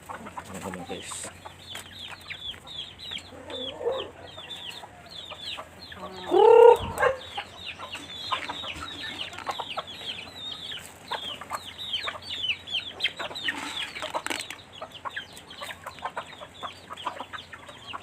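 Outdoors on a windy rural farm, a mother hen keeps up soft repeated clucks while her two chicks peep continually; one louder squawk rises briefly in the middle.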